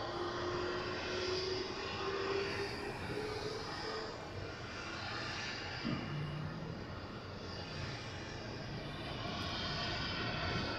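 A fixed-wing airliner passes at LAX airport, a loud, sustained engine roar that swells and shifts in pitch as it goes by, with no talking.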